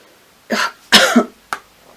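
Three coughs close to the mic: a short one, then a harsher double cough, then a brief final one, with quiet gaps between.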